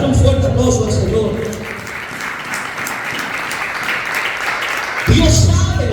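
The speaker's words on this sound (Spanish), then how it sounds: "dar un fuerte aplauso al Señor" A church congregation claps loudly and steadily for several seconds during an evangelist's sermon, a dense wash of applause that fades out as a voice picks back up near the end.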